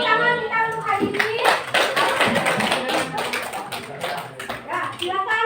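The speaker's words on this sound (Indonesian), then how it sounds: "tepuk tangan kita untuk hari ini" Children clapping together in a classroom during a school lesson, a dense patter of hand claps running the whole time with kids' voices mixed in underneath.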